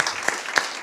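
Audience applause at a social sustainability hackathon finale, following the team presentations: a short, steady burst of many hands clapping, close and fairly loud, with no speech over it.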